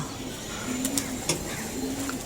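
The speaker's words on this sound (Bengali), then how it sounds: "কবুতরগুলা উঠতেছে নেমে যাওয়ার সময় হয়ে গেছে মেবি কবুতরগুলা" Young pigeons settle onto a loft on a hot afternoon, giving low, repeated coos close by, with a few brief flaps or scuffles mixed in.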